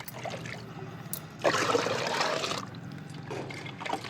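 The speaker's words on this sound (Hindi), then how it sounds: "उसमें से इसमें और 2-3 मग डाल करके हम इसको पूरा 10 लीटर का पहले बना लेंगे" Water poured from a mug into a 10-litre bucket while diluting mustard cake liquid fertilizer: a soft trickle, then a fuller splashing pour for about a second, fading back to faint dribbles.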